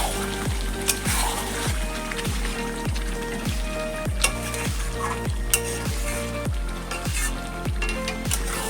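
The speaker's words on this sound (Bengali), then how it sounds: "দেখুন কি সুন্দর কষানো হয়ে গেছে, তেলগুলো ছেড়ে এসছে, সুন্দরভাবে তেলটা ছেড়ে গেছে।" Chicken curry meat sautés in hot oil, a steady close sizzle broken by regular, evenly spaced stirring scrapes, with no talking.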